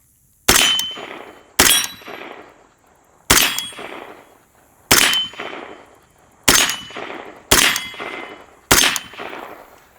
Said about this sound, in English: Could we shoot steel with it though?